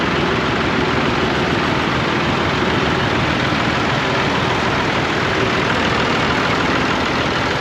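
Massey Ferguson 165 tractor with a Perkins diesel engine running steadily at idle, a dense, loud, continuous rumble with no pauses or voices.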